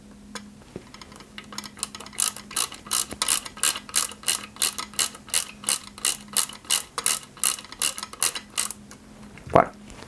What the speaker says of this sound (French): Et on visse cette poulie avec une vis pareil,